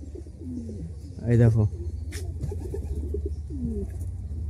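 Pigeons coo in a home loft where a young pigeon and a Giribaz feeding its chick are kept, soft throaty cooing under a man's speech and a brief louder burst.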